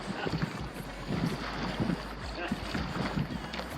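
Strong wind buffets the microphone while Hobie kayaks launch on the Gippsland Lakes, a continuous low roaring rumble with gusty swells throughout, close and fairly loud, with voices mixed in.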